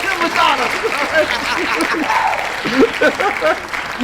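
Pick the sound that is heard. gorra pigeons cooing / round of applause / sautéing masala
round of applause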